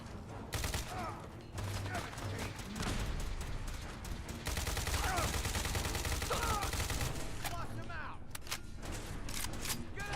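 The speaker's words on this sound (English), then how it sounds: "I shot you like multiple times, my guy" Rapid bursts of gunfire from a heavily modded Fallout 4 firefight crackle through the scene, sharp shots and automatic volleys stacking up close and loud while a player talks over them.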